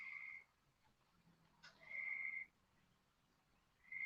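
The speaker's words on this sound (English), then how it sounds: "That frog loud though." A frog calls in three bursts of a loud, steady high trill, the last one cut off at the end, with quiet gaps between them and a short click partway through. No voices.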